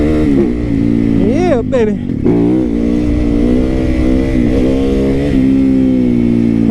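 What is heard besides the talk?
adventure motorcycle engine revving and accelerating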